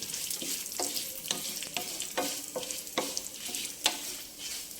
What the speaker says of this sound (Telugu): ఒక కాయని 2గా చీల్చుకొని చక్కగా వేయించుకోవాలి.